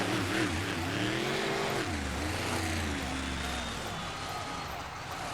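Monster truck Bulldozer drives its lap at a Tampa monster truck racing show in 2009, its engine a loud, steady rumble with rising and falling revs, close and continuous while an announcer talks over it.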